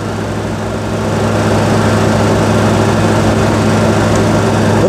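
A Tata 407 SFC BS4 pickup's diesel engine held with the accelerator pressed fully down, a steady loud drone that rises slightly in the first second and then holds constant, with no talk.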